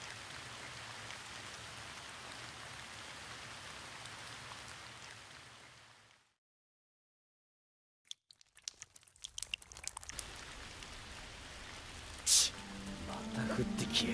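Rain falls in the video game Danmachi Memoria Freese, a steady, soft hiss of rainfall that cuts to silence, then returns with scattered clicks and a brighter burst.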